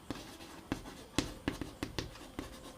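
A pen writing a maths solution by hand on paper, a series of close, sharp scratchy strokes and taps in an irregular rhythm, alone and fairly quiet.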